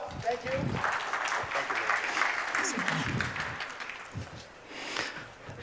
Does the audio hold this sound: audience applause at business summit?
yes